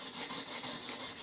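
A file rasps back and forth across the nut of a bass guitar during a build, in about six even strokes with a steady rubbing rhythm, close and alone.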